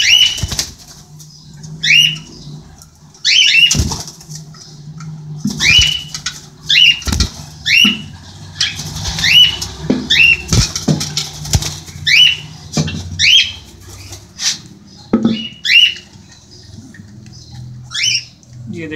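A cockatiel chick inside a nest box squawks repeatedly in sharp, rhythmic calls while its wings flap and patter, loud and close throughout.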